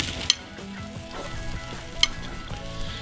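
Shrimp sizzle on a charcoal grill as they are lifted off, a soft steady hiss with two sharp metallic clicks of tongs or utensils and light scraping, close and without voices.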